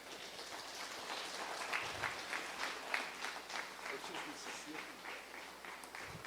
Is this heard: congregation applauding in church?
yes